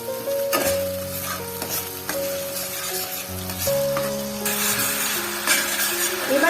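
Fish curry being stirred in a pan over a high gas flame, with washing water just added, gives a steady sizzle and frying hiss with occasional scraping of the spoon, close and continuous, without talk.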